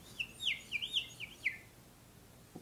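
Several short, high bird chirps come in a quick irregular series, clear and fairly close, then fade to quiet background hiss.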